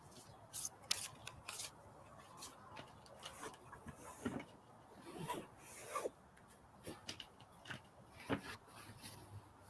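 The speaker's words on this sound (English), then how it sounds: "like this is how I have to shuffle this deck." An oracle card deck being shuffled by hand gives soft, irregular riffling and rubbing bursts of papery card noise, close and quiet, with no talking.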